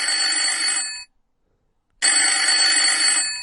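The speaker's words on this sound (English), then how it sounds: "What's this? We have a phone call?" A telephone bell rings loudly and steadily in two long bursts separated by a second of silence, with no voices over it.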